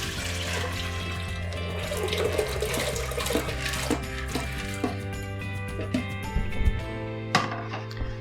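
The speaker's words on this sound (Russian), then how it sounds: "высыпаем в нее горох вместе с той водой, в которой он замачивался" Water and soaked dried peas pour steadily into a pot, a continuous splashing rush with small clattering knocks.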